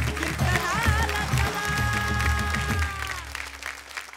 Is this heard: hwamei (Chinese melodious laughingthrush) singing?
no